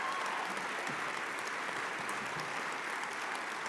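Steady, dense applause from an audience at a charity awards gala, a continuous wash of clapping holding at an even level throughout with no voices over it.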